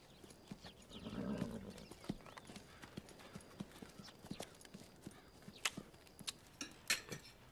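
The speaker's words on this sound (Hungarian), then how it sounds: "Lásd el a lovakat, két napja úton vannak." Horses walking with steady hoof clip-clops, a few sharper louder hits near the end, and a soft neigh early on; no talk over them.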